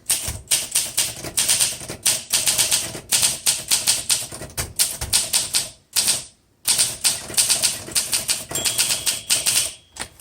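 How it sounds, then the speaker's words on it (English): A 1958 Olympia SM3 manual typewriter clacks away in rapid, close bursts of keystrokes, with brief pauses between runs and a carriage movement near the middle. "probably the best typing Olympia I've had"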